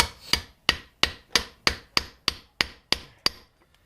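Ten sharp, evenly spaced hammer taps on a socket seating a wheel bearing on a 2008 Yamaha Grizzly 660 ATV, close and loud, each strike ringing briefly before the next.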